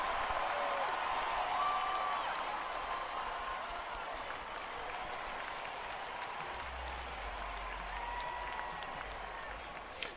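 Crowd applause in a baseball video game as the pitcher Lefty Grove walks off after a complete game, a steady, fairly distant stadium roar and clapping that runs under a commentator's talk.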